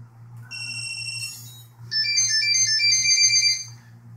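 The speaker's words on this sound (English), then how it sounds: "You'll notice 4 beeps, then a pause" Two bursts of bright electronic beeping tones from a custom Y6 drone controller powering up, four beeps then a pause and a longer repeated run, over a steady low hum.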